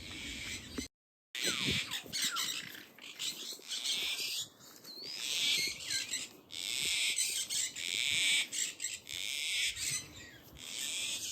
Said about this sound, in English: In this aviary we have some yellow golden pheasants.